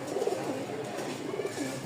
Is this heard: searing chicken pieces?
no